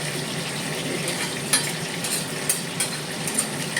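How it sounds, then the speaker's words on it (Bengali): Steady crackling sizzle of fenugreek seeds and a dried red chilli frying in a little hot oil, with a few sharp clinks of a utensil against the pan. "অল্প একটু তেল দিলাম আর এই যে মেথি ফোড়ন দিলাম"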